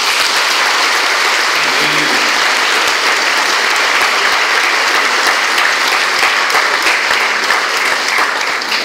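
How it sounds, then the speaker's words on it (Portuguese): Loud, sustained applause from a large audience at a collective wedding ceremony, steady dense clapping filling the whole stretch without pause. "Pode colocar no dedo da tua amada, a mão esquerda, e um forte aplauso"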